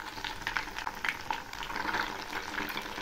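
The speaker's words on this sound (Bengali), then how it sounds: "তবে অনেকটা সময় ধরে ভাজতে হবে।" Egg snack batter deep-fries in oil, producing a close, bubbling, boiling-like fizz with scattered pops and crackles that rise and fall slightly throughout, with no talking.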